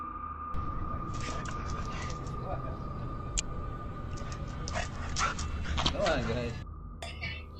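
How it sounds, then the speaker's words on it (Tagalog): A dog in a yard whimpers and gives a few yips and barks, with a person speaking over it and a steady hum behind. "Ang bidyong ito ay nagpapakita ng isang aso na nasa bakuran."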